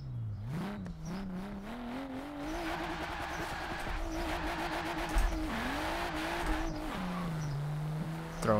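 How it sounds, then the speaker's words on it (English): A car engine in Forza Horizon 4 revs hard during a drift run, climbing in pitch and dropping with each gear change, steady and close with faint tire noise. "Throwing the car through the gears."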